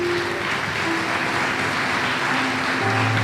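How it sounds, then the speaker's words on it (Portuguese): Church congregation applauding, a steady dense wash of many hands clapping from start to finish, with a faint sustained tone underneath. "Você pode aplaudir ao Senhor?"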